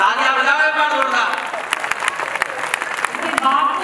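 A crowd at a lively stage event in Udaipur breaks into loud, sustained clapping, with voices and cheering mixed into the dense applause throughout.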